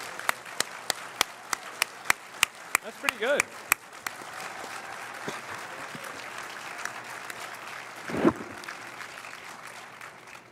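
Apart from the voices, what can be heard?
audience applause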